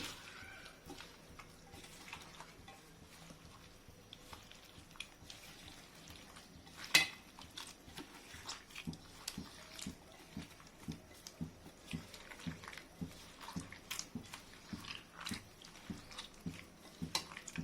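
Tomato pakodi batter pressed and mixed by hand with chilli powder and salt, soft wet squelches and pats repeating in an uneven rhythm, close and quiet, with one sharp clink partway through.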